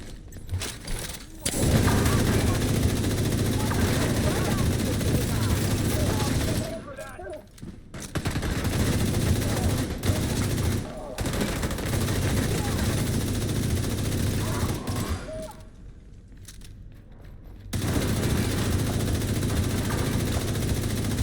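Automatic rifle and machine-gun fire in The Division 2 game, loud bursts of shooting that come and go across the span, with brief lulls, under someone talking.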